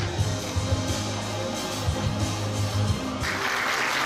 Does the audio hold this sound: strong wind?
no